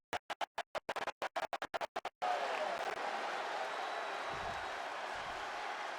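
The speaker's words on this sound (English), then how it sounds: "And now Bianca getting the crowd involved." A wrestling arena crowd roars after a series of sharp rhythmic claps or stomps gets them going, the cheering swelling into a loud sustained wash with low thuds underneath.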